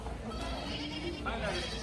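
A Kathewadi goat bleats at the Chalisgaon goat market, its calls rising out of a dense wash of crowd noise and nearby voices talking throughout.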